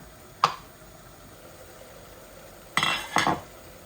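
A metal spoon clinks against a pot while salt goes into meat being cooked, one sharp tap followed by a brief pause and then two quick scraping clinks over a faint background hiss.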